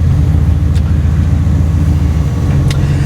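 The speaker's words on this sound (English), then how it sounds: "V8, fires to life and gives you a nice rumble" A C2 Corvette V8 rumbles loud and steady with a deep low throb as the car pulls forward, alone without voices.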